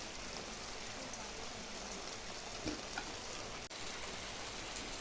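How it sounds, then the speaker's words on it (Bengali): Okra frying in mustard paste in a pan, a steady close sizzle with a soft crackling hiss throughout, broken by a faint stir or two. "সর্ষের সাথে ভেন্ডিটা প্রায় মিশে গেছে আর ভাজা ভাজা হয়ে গেছে"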